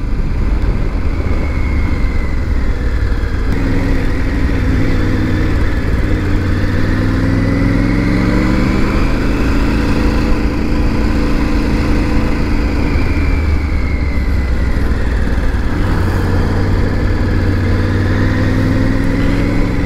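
A Triumph Tiger 900 GT motorcycle engine drones steadily while riding, loud and close, its pitch rising and falling smoothly through gear changes and throttle shifts.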